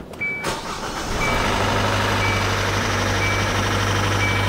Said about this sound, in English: I'm gonna go ahead and start this engine up and you can hear what I heard when I first started this engine.